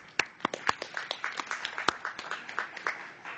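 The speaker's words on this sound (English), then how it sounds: "let's round of applause for the highway department" A small crowd at a town deliberative session claps for a few seconds, scattered hand claps at a quick, uneven rhythm, fairly faint.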